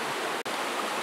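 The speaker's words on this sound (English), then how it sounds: "with the water from the river that's right here, from this mountain spring" A river fed by a mountain spring flows in a constant, close rushing hiss of running water, broken once by a tiny instant dropout.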